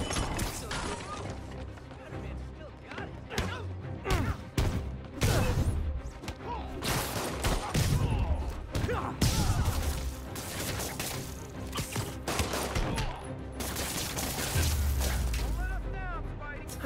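Combat in Marvel's Spider-Man video game: dense gunfire, booms and heavy impact thuds layered over music, with voices speaking throughout.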